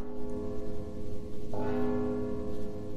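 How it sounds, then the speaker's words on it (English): A deep church-style bell tolls in the stealth video game Mark of the Ninja, with a sustained resonant hum and a fresh strike halfway through that rings on over low background ambience. "Don't you hear the bell?"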